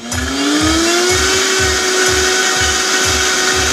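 Carrot top pesto with toasted pumpkin seeds, garlic, cilantro, salt and olive oil whirs in a blender, a loud, close, steady motor drone with a rising pitch and a rhythmic churning pulse, and no voices.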